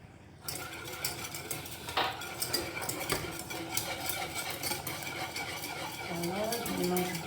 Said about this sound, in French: je vais essayer de bien remuer comme ça pour que ça ne se renverse pas